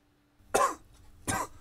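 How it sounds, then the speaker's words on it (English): Two short, sharp coughs from one person, close and distinct, separated by a brief pause in otherwise quiet surroundings. "Coughing."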